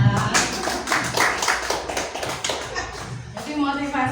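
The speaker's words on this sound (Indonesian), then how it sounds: "Tepuk tangan." Scattered hand clapping from a small group at a school teachers' gathering, uneven claps mixed with shuffling and voices, tapering off after a few seconds.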